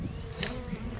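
Honeybees buzzing close by during an early-season hive inspection, a brief steady drone with a slight pitch wobble.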